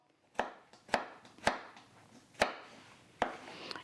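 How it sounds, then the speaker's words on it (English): A shallot being sliced with a knife on a board, five or six crisp chopping taps spaced unevenly, close and clear with quiet pauses between them. "all I'm going to do is cut it in half and slice it through"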